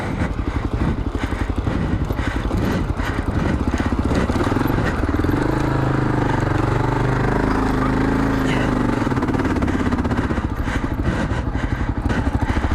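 A motorcycle engine, a Himalayan or KLR 650, chugs in a loud, steady rhythm while riding slowly on a slick clay trail, close throughout, with a voice talking over it.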